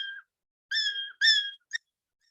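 A cat meow pitch-shifted in software into a high, bird-like call: four short, clear chirping whistles in quick succession, with silence between them.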